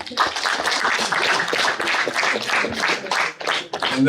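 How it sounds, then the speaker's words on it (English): Applause from a seated crowd at an official opening ceremony, a dense, steady patter of many hands clapping close by for about four seconds with no talk over it. "A round of applause, ladies and gentlemen"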